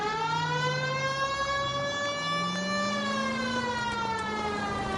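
A police car siren wails continuously in the video game L.A. Noire, a loud steady tone rising and falling slowly with no voices over it.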